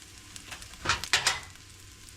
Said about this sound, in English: To the pan, I'm going to add some seasoning so we can bloom them.